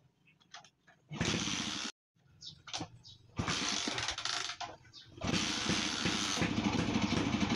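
A Rusi 125 Macho motorcycle engine tries to start but misfires, giving three rough bursts of sputtering running broken by stalls and short clicks, close up and fairly loud, with little or no talking.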